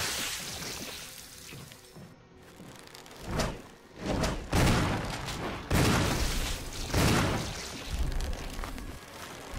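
Gunfire blasting an enemy in the Resident Evil video game, a series of heavy booming shots and thuds at irregular intervals, loud and close, with no talking over them.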